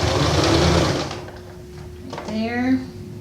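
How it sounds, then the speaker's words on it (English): Sewing machine stitching piping into fabric garment pieces, a steady whirring run that slows and stops, followed by a brief rising mechanical whine, with someone talking over it. "Because now you're sewing your garment pieces together."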